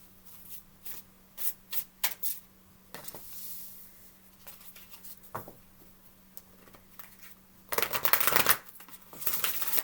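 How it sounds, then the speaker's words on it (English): Tarot cards being shuffled by hand: bursts of quick riffling and patting come in short clusters, with a louder, denser shuffle near the end, all close and fairly quiet, with no talking. "I'm about to just start pulling cards."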